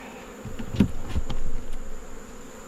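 Faint buzzing of honeybees droning in the background during a mid-October hive inspection, a low steady hum with a few brief louder passes close by.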